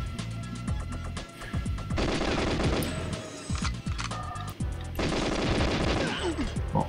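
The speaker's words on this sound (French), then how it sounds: "Où est-ce que ça tire?" Gunfire in the video game GoldenEye 64: loud, dense bursts of automatic fire, with short rapid volleys separated by brief pauses, played alone without speech.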